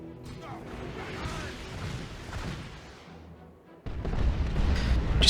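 Ork tank busters blowing up a generator in the Dawn of War 2 Retribution strategy game, a cluster of booms and crackling battle noise that surges into a louder blast near the end.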